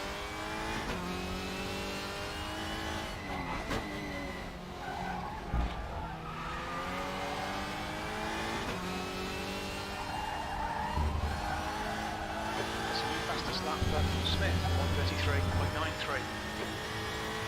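Mercedes-AMG GT4 touring car lapping Hockenheimring in RaceRoom, engine droning continuously with rising and falling revs through gear changes, occasional tire squeal and a slide off the track, loud and steady throughout.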